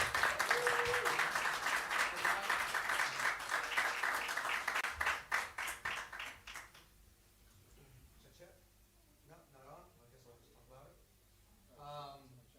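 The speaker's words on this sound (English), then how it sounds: "Give them a round of applause." An audience at a music masterclass applauds, loud sustained clapping from many hands that thins into scattered claps and dies out, after which a voice begins speaking over a quiet room.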